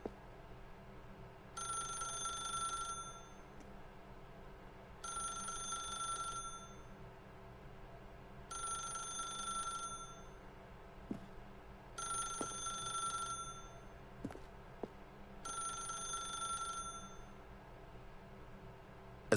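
A telephone rings in The Stanley Parable: five spaced bursts of trilling bell rings with even pauses between them, clear and moderately quiet against a low ambient hum.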